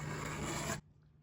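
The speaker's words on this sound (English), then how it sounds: "I just blocked it in yesterday, and I'm just gonna scrape it." Paint being scraped off a canvas board with a blade, a close, dense rasping scrape lasting under a second before it cuts off into near quiet.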